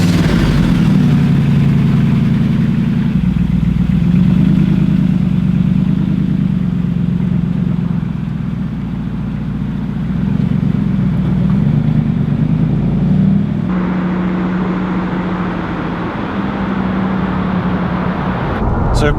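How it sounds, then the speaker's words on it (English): A Noble M600 sports car engine drones steadily from inside the cabin on a test drive, a loud low rumble that holds even before easing into a lighter, brighter tone near the end, with no talking. "We're going out in the M600, have a little test drive and give you our impressions."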